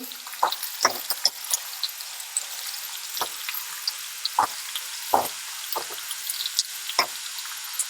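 Onion, carrot and other vegetables for a rustic Bhogi mixed vegetable dish being stirred in a pan, with repeated sharp spatula clacks and scrapes over a light, watery frying hiss.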